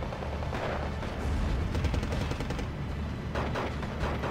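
Gunfire and artillery in the WWII strategy game Steel Division 2 thump and crackle in repeated bursts, some heavy booms and some quicker rattling volleys, at moderate level with no talk.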